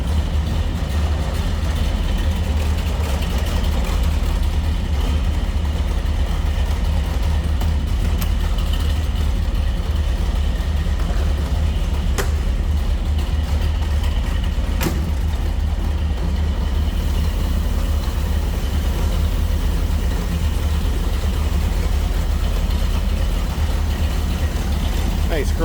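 A 1969 Chevrolet Corvette convertible with a 454 V8, MSD HEI ignition, Edelbrock intake and Holley 4-barrel idles steadily, a deep continuous rumble that stays loud and even from start to finish.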